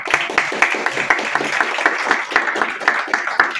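Audience applause at a talk, a steady patter of many hands clapping with sharp individual claps standing out, moderately near and sustained throughout.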